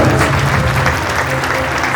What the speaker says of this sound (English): A huge round of applause for this extraordinary achievement